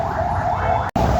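An ambulance siren wails on a busy street in Nepal, rising and falling in a steady, loud warble with a very brief cut near the end.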